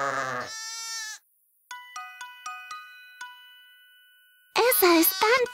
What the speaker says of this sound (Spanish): Había muchas ovejas peludas en el granero.